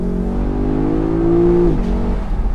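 A Lexus LC top sports model with a 477-horsepower V8 revs and accelerates up close, its rising engine note climbing steadily before dipping briefly at a gear change.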